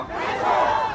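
A crowd at a Freedom Unification Party press conference shouts a slogan together, a loud, sustained chant of massed voices lasting about a second.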